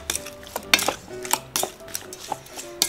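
Spoon stirring and scraping through a Thai shrimp salad with beef meatballs in a bowl, a series of sharp clinks and scrapes repeating in an uneven rhythm, close and fairly loud.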